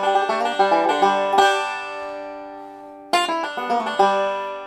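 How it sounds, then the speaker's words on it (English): A banjo plays a quick chromatic lick of rapid plucked notes, a brief pause, then a short closing phrase, bright and close with no talking. "Now, I'll show you a little lick that you can use at the end if you want to throw in a chromatic lick."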